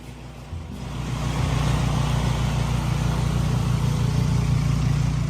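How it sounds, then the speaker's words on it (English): A snowblower engine runs steadily in Alaska snow, a continuous mid-pitched mechanical drone that swells over the first second and then holds at a loud, even level with no voices. "Snowblower can be fun."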